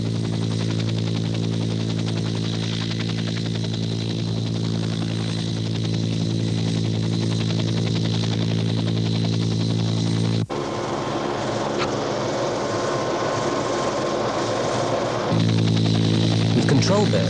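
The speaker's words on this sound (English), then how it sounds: "The low-flying helicopter follows a predetermined grid pattern along which the incendiary devices are" A low-flying helicopter drops incendiary devices along a grid pattern for a backburn during a 1978 bushfire in the Corryong district, its steady engine and rotor drone continuous and loud throughout, shifting in tone partway through.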